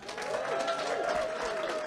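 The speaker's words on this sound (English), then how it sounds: "Let's hear a real round of applause." Hearty audience applause at an awards ceremony, a dense, loud, sustained burst of clapping from a full room with some crowd cheering mixed in.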